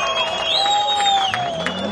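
Spectators at a race in Botevgrad applaud and cheer, scattered claps and crowd noise mixed with sustained whistle-like tones, with a voice talking over it.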